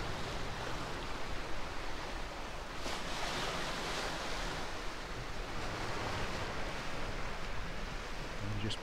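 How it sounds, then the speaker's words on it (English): Waves crash below sea cliffs on the Dorset coast, a loud, continuous roar of surf and wash that swells slightly but never lets up. "The waves crashing below there."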